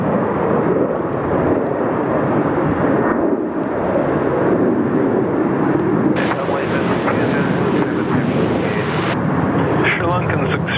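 A heavy jet on final approach at Sydney Airport gives a broad, continuous roar with gusty wind buffeting the microphone. The rumble stays loud and close throughout.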